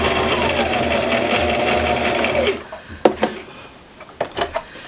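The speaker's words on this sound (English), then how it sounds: "So I'm going to do a little bit of sewing to make sure that you're catching the batting." A sewing machine stitches through cloth tampon batting and string, a fast steady mechanical whir with rapid needle clatter for a couple of seconds, then stopping, followed by a few sharp clicks and handling knocks.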